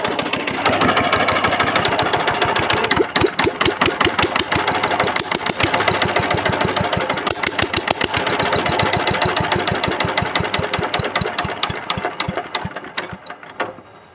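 An old VST diesel engine with a faulty delivery valve and element runs after starting, a loud, rapid, rhythmic knocking chug that holds steady close by, then fades and dies away at the end.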